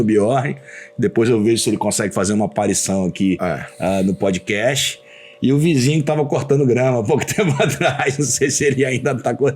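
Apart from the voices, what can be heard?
No distinct noise like a dog, phone or traffic.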